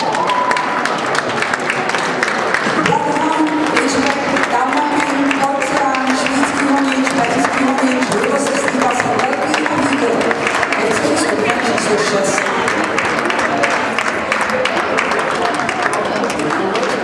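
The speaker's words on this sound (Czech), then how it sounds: "A vy můžete zatleskat." Steady, dense applause from an audience at a dog show in a Prague hotel, sustained clapping throughout with a voice speaking over it.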